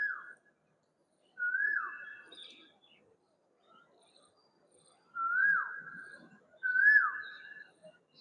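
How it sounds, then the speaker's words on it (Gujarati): An Asian koel calls out in clear, ringing whistled notes, four calls spaced apart by quiet pauses, sounding open and slightly distant, with a faint echoing tail. "એક કોયલ અહીંયાથી બોલે છે તો એનો પડઘો"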